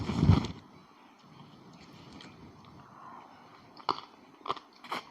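Someone chews a spicy Luang Prabang-style papaya salad up close, with one heavy crunchy bite at the start, then softer mouth sounds and a few sharp crisp crunches near the end.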